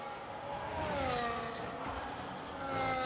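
A Formula 1 car screams past in a racing video game set at the Australian Grand Prix, its high engine note swelling and bending as it whooshes by, with another car's whine rising at the end.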